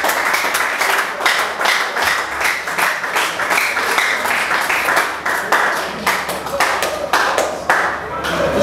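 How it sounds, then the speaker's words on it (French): An audience at an extraordinary general assembly applauds steadily, a dense sustained wash of many hands clapping with sharper nearby claps, and some voices in the mix. "je voulais vraiment que nous nous applaudissions nous-mêmes pour ce courage"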